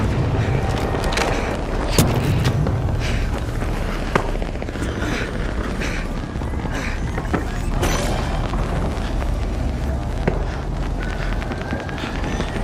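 Grenade blasts in the shooter game The Finals, a dense roar of booming explosions and crackling debris that stays loud throughout, with sharp bangs near the start and again around the middle.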